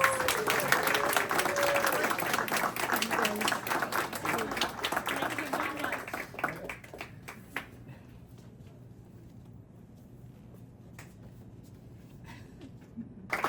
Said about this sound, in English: a round of applause for our silver award winners